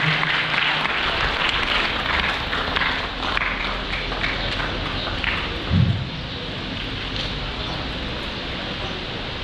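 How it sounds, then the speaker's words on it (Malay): Schoolchildren applauding during a talk on teenage issues, a broad continuous patter of many hands at moderate level, with a brief thump near the end and room noise underneath. "bagi tepuk tangan"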